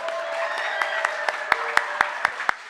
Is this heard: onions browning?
no